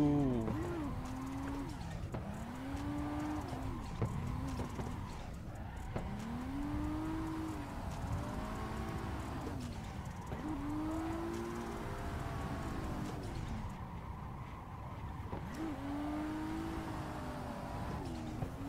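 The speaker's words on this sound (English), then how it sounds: "Full throttle." Car engine held at full throttle in the Assetto Corsa driving game, on a mountain road drift run: a loud, continuous revving drone that keeps rising and dropping as gears shift, with faint tire squeal mixed in.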